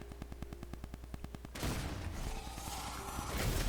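A howitzer-like launcher firing in Tiny Tina's Wonderlands, a run of rapid evenly spaced mechanical ticks followed by a sudden heavy blast that rolls into a sustained rumble.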